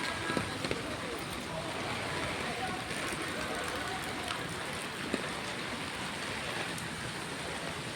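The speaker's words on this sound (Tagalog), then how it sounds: "Grabe, lakas ng ulan talaga." Heavy typhoon rain pouring steadily in Pasay, a constant loud hiss of downpour on surfaces with no letup, broken only by a few faint knocks.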